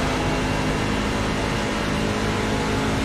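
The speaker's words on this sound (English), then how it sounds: "I hear John working the throttle" A steady, dense diesel racing truck engine roar under throttle fills the clip at constant loudness, a broadband drone with a low hum and no talk.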